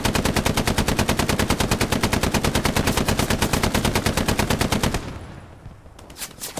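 A machine gun fires in the World War II shooter Hell Let Loose: a long, loud, unbroken burst of rapid evenly spaced shots that fades toward the end, followed by a few scattered reports.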